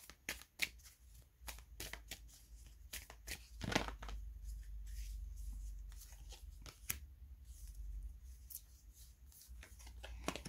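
Tarot cards are shuffled by hand in quick bursts of riffling and flicking, close and crisp, with short pauses between passes and no speech.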